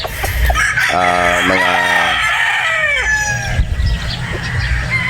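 A rooster crows loudly nearby with a long, wavering call, among clucking chickens and a constant farmyard background at a gamefowl farm in Batangas.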